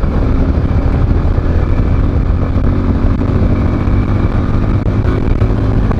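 A Bajaj Avenger 220 BS6 cruiser motorcycle ridden at top speed, a loud continuous engine drone with heavy wind rush and no talking.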